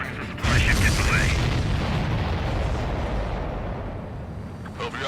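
Explosions and heavy booms in the aerial combat game Ace Combat 7 roll out as a loud, sustained rumble of blasts that starts abruptly and keeps rumbling throughout, with no talk over it.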